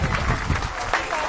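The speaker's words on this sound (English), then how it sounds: "Nice round of applause for all of our sponsors for today's event." Festival crowd applauding sponsors at an outdoor Maui event, steady dense clapping throughout with some voices mixed in, fairly close and loud.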